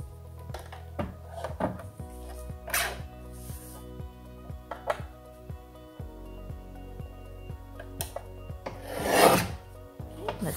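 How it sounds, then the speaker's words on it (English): Card stock for a 5x7 pop-up card is trimmed by hand: a series of close scraping, rasping strokes with light taps and shuffles between them, building to a louder swish near the end. "I'm going to trim that ever so slightly because I'm off just a smidge."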